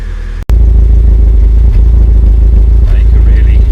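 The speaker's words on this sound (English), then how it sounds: "Definitely misfiring again." A Mk5 VW Golf GTI engine runs loudly and steadily nearby, its rough, uneven misfiring rumble stumbling now and then, with a brief cut near the start.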